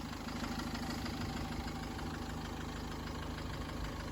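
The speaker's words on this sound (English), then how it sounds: "That's the pistons of the engine you're hearing." A Cummins Euro 5 engine idles under its hatch, a steady, loud rhythmic knock of pistons and rods running continuously with no voices.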